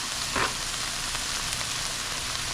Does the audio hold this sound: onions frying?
yes